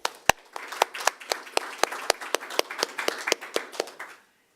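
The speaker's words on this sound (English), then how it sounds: "One more applause." Audience at a technical conference gives a short round of applause, a handful of distinct, sharp claps in an irregular rhythm, close and fairly sparse, ending abruptly.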